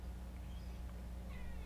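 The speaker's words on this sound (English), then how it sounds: "the cat just walked in here, so if you hear meowing" Indoors, a house cat lets out a short, faint meow near the end, over a steady low hum with no talking.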